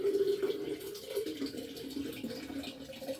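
Tap water runs and pours into a container in a home kitchen, a steady, close, moderately quiet splashing flow with gurgling tones.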